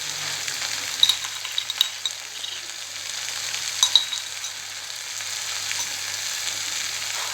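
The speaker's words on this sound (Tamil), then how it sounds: "இப்போ இது கூட இது நல்லா இன்னும் ஒரு 2 நிமிஷம் வந்து நல்லா ஃப்ரை ஆகி வரட்டும்." Mushroom sukka frying with roasted ground spice powder in a pan, a constant soft hissing sizzle broken by a few sharp spatula scrapes and taps, close and without speech.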